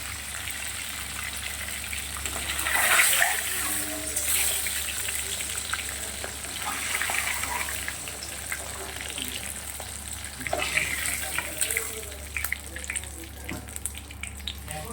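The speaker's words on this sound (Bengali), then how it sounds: "আলুগুলোকে ভেজে নেবো লাল লাল করে" Potato pieces frying in hot oil to a golden-red colour, with a steady sizzle and crackle throughout, occasional stirring scrapes and brief louder bursts.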